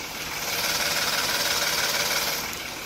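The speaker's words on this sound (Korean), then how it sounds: "지금 영상에서 들리시는 것 같이 굉장히 정숙하고 규칙적인 엔진 사운드 들려주고 있고요" A Genesis G80 petrol engine idles steadily up close with the hood open, a smooth even hum with fine regular ticking and no voices.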